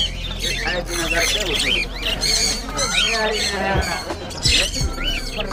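Cockatiels and other caged birds squawk and chirp repeatedly at the busy Broadway pet market in Chennai, their sharp calls overlapping over a steady murmur of crowd noise and voices.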